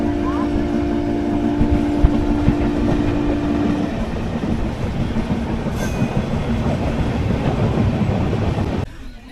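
Purnagiri Janshatabdi Express passenger train pulling away from Ramganga Bridge station, a steady loud rolling rumble with wheel clatter and a drawn-out horn tone at the start, continuing throughout from onboard.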